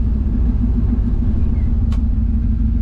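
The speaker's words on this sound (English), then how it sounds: "Today we're driving a 1967 Chevrolet C10 in a very nice metallic blue." A 1967 Chevrolet C10 pickup with a swapped 6.0L engine and automatic transmission, driving with a steady, loud low engine rumble and road drone heard from inside, continuous and even with no talk.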